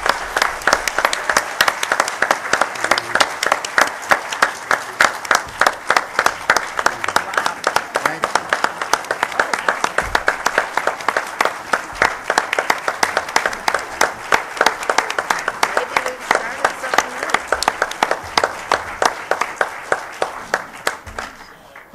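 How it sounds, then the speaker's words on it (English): Sustained applause from an audience, many hands clapping in a steady, even patter that keeps going for the full length. "Let's give them a really warm round of applause."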